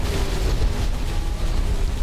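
Continuous heavy rumbling explosions from the game Halo 3 fill the entire span, dense and loud with no pauses or talk.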